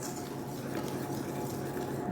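Pancake batter is being mixed with milk in a bowl, a soft continuous scraping and swishing of a utensil against the sides, ending in one sharper clink.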